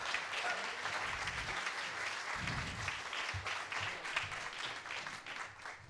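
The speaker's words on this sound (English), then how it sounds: "another round of applause" Another round of applause for performer Robin Lundstrom at a community variety show; sustained audience clapping fills the room, with low thumps and scattered voices mixed in.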